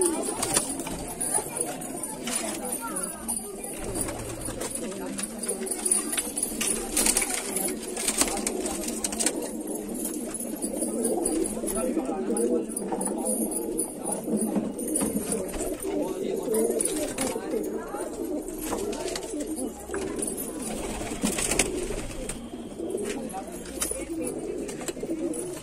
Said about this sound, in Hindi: सब मिक्स कबूतर हैं, सब रंग के हैं।